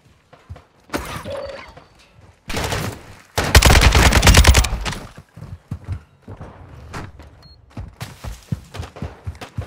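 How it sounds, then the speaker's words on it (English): Gunfire from the Call of Duty DMZ video game comes as sharp shots and a dense, loud automatic burst in the middle, with scattered reports and impacts before and after. "You are taking effective fire."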